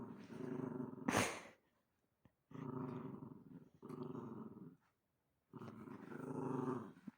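A small dog growls in low, rumbling bursts, four separate growls with short pauses between, fairly quiet and close.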